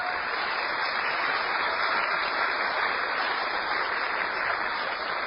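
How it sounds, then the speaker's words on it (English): Audience applause at a Terence McKenna lecture, a continuous dense wash of clapping that holds steady at even loudness for the whole stretch, with no voices over it. "Now, a round of applause"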